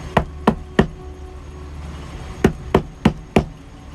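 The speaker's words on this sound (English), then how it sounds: "I was totally in my own world when I heard an alarming knock." At night, a series of sharp knocks hits a vehicle: three quick raps, a pause, then four more in a slightly faster run, close and distinct over a quiet background.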